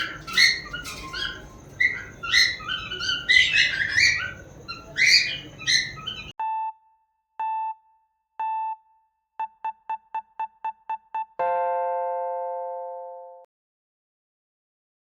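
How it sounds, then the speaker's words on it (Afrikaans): A cockatiel calls from a hidden source in a clear run of chirps and whistles, then repeated short tonal beeps and one sustained harmonic tone follow, the clip quiet apart from these sounds. "Dat is een koketeel wat zwerf lijkt."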